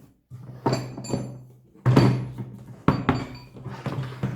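Hard plastic clunks and snapping latches as a Parkside power tool case for a demolition hammer is handled and opened, several sharp knocks in irregular succession, close by.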